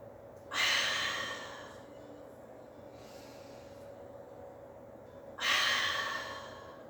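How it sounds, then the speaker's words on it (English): Deep breaths during a pilates exercise: two loud, close, airy exhales about five seconds apart, with a fainter breath between them over a quiet room background. "Keep that breath going."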